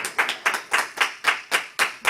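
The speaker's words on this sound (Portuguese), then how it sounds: "Dá um aplauso ao Senhor." Congregation at a church service clapping in a steady unison rhythm, about eight sharp claps spaced roughly a quarter second apart, close and moderately loud with no talking.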